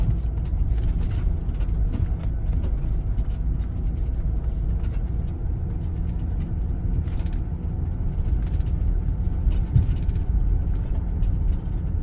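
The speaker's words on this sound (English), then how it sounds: "Yeah, another vehicle." A vehicle on a road at a wildlife management area in Kingsland, Georgia gives a continuous low engine rumble, moderately loud and fairly even throughout, with faint outdoor background and no talking.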